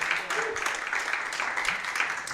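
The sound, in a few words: audience applause for speaker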